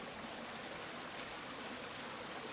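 A stream runs on a bush track near Beauchamp Falls, a soft, steady, even wash of running water that stays constant throughout with no voices.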